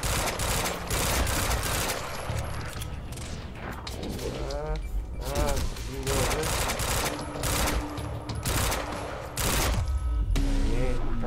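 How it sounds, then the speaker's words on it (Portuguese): Quantum Break video game combat has dense bursts of automatic gunfire and impacts, loud and continuous, mixed with game effects and people talking over it. "Os efeitos aí de mostrando o cara tomando tiro."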